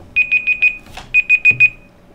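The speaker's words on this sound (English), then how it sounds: "that's just an alarm on my phone to remind me to do something" Phone alarm going off nearby: two bursts of four quick, bright electronic beeps separated by a short pause, loud and clear over a quiet background with a brief soft rustle between them.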